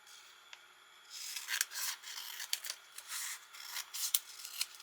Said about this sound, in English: grab my scissors and cut a new piece